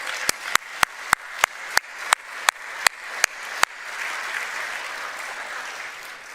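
A church congregation claps about a dozen sharp beats in slow unison, then breaks into a sustained, roomy wash of general applause for a group of students.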